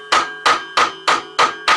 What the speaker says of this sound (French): l'idéal c'est le maillet